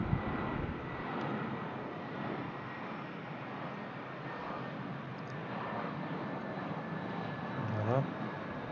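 A Transavia-liveried airliner touching down at Brussels Airport, heard as a steady, broad engine roar with rushing wind noise throughout, swelling slightly near the end.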